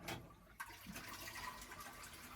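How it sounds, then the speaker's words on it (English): A toilet in a Japanese hotel room flushes with a steady rushing, gurgling wash of water that fills the whole short stretch. The sound is close and fairly quiet, and no one speaks over it. "When you flush this toilet, the water runs out of the faucet."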